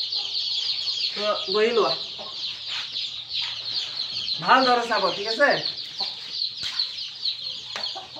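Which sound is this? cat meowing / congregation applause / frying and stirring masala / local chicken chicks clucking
local chicken chicks clucking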